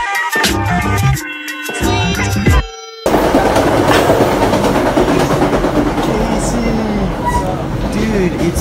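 Commuter train riding on rails near New York, the first seconds dominated by a tonal musical-like sound, then a steady close rolling rumble with faint clickety-clack under it.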